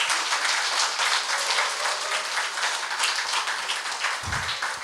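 A room full of people at a health lecture applauds steadily, with a dense, continuous patter of clapping at an even level that runs throughout. A brief low thump comes near the end.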